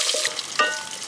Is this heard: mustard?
yes